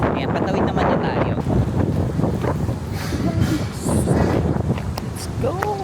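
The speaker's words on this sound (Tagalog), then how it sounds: "wow, hangin." Wind buffets the microphone in a steady, rumbling roar, with brief talk and outdoor bustle mixed underneath.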